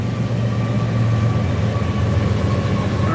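Train passing a rail crossing, a loud continuous low rumble and rolling wheel drone with steady metallic hum, filling the whole stretch without pause.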